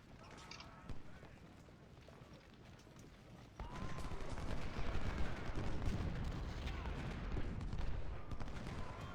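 Scattered sniper gunfire crackles through a Civil War strategy battle in the game Distress Call, the sharp reports coming at a distance, thickening into a denser roar of fire partway through, with a voice talking over it.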